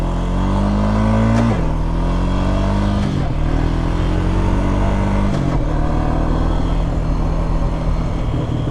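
A 2004 Honda Rancher 350FE ATV engine drones loudly and close on a Catskills trail during a U-turn. Its pitch drops sharply several times as the throttle eases or it shifts, then climbs again.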